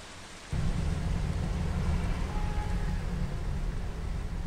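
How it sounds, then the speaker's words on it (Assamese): Steady, dense rain falls in a broad, even rush that starts abruptly after a brief quiet moment and continues loudly and unbroken, with no voices over it. "এইটো বৰষুণটো নৰখিব নেকি"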